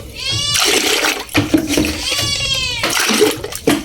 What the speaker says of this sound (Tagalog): Then lalagyan natin ng malamig na tubig para hindi mapaso ang ating kamay sa pagbabalat.